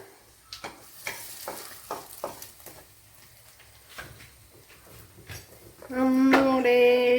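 Chicken fries in a clay chatti pot for chatti chicken varattiyathu, with scraping and stirring clicks over a soft sizzle, then a loud steady tonal sound rises near the end.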